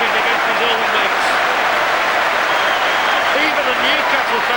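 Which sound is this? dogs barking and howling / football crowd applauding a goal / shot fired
football crowd applauding a goal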